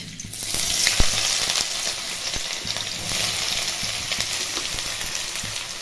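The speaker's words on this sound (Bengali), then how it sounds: "পেঁয়াজটাকে ভালো করে ভেজে নিতে হবে।" Chopped onions with five-spice seeds fry in mustard oil in a wok, giving a loud, continuous close sizzle with occasional stirring scrapes and clicks and no talking.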